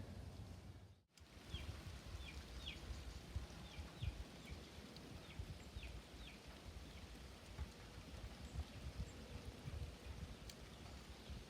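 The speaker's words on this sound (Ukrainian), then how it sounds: "Нас задощило, йдуть дощі." Steady rain falls outdoors on a rural work site where an old wooden gate is being repaired, a dense, continuous hiss with scattered drop patter and faint bird chirps throughout.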